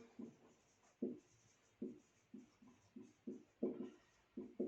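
Pen scratching out a math solution on paper, a steady series of short, close strokes roughly every half second, quiet and alone.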